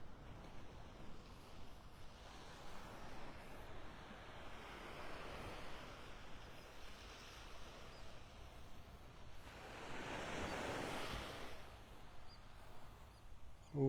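Waves break softly on a white sandy beach in North Naples, Florida, a gentle wash that swells once toward the end, faint and mixed with wind on the microphone.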